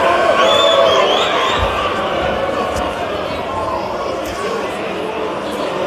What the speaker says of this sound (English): Make some noise if you want some free stuff. Make some noise!